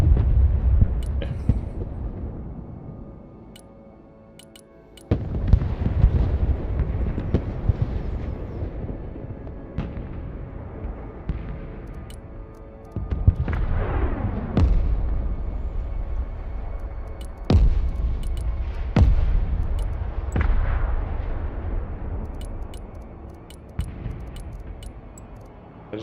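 Gunfire and artillery explosions in the video game Broken Arrow, with separate heavy booms spaced several seconds apart, each decaying into a long rumble, over a quieter background of distant shots.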